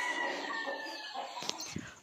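Hens and chicks on a poultry farm cluck softly amid steady background noise, and a few short, sharper calls stand out near the end.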